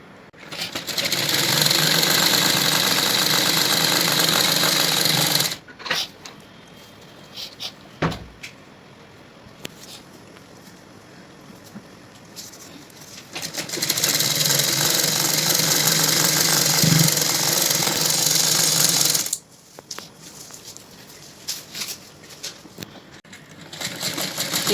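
A sewing machine stitches baby bloomer fabric in two long, steady runs, with quieter handling and small knocks in the gap between them, close and loud, no talking.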